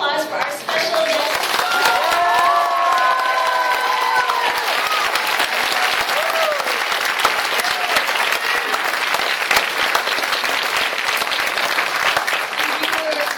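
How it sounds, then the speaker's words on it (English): Loud, sustained applause and cheering from a convention audience welcoming a special guest at an anime festival, with voices and shouts mixed into constant dense clapping throughout. "give a big, big round of applause for our special guest"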